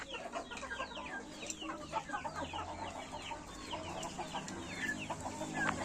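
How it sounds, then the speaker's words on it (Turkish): Young roosters and chickens cluck and chirp busily while feeding, a dense, continuous chatter of overlapping calls from several birds close by. "Kut kut kut kut kut kut kut diye tavuk çağırırlar"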